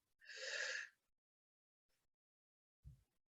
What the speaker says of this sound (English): and exhale slowly.